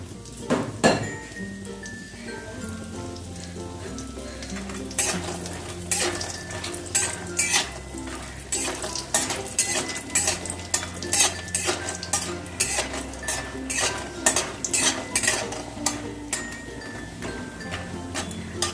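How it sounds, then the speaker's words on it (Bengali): Lentil bori frying in hot oil while being stirred, a continuous close sizzle broken by frequent clinks and scrapes of a metal spoon against the pan, the strokes coming quicker toward the end. "তেলটা গরম হয়ে গেছে এবার আমি বড়িগুলোকে ভেজে নিচ্ছি"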